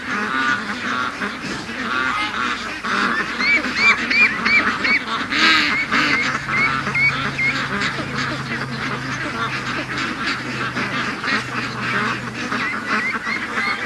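A flock of ducks at a creek honking and quacking continuously, overlapping calls from several birds at moderate distance with a low steady hum beneath.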